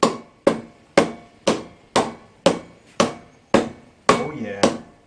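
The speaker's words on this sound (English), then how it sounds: "You want to give it a hammer?" Hammer blows strike a part on a Honda ATC three-wheeler front brake, ten sharp evenly spaced metallic knocks about half a second apart, close and loud, with brief voices near the end.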